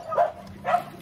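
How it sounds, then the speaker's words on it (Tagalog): Two short barks from dogs on a subdivision street, spaced about half a second apart, moderately near and with no one talking over them. "Dami aso."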